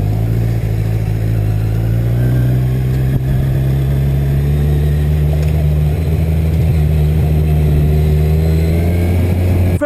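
A 2020 Kawasaki Z1000 ridden on a track holds a loud, steady engine drone with smooth throttle, close to the listener and alone without talk.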